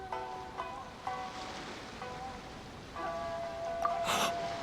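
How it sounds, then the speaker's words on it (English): Ocean waves in the video game Genshin Impact, a soft steady wash of surf under gentle tonal game music, with a brief brighter swell near the end. "You mean the sound of the ocean?"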